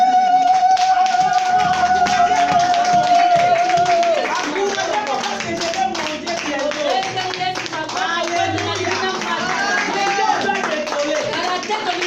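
A church congregation claps together in acclamation, a dense, loud run of rhythmic handclaps under sung or chanted voices that carries through the whole passage.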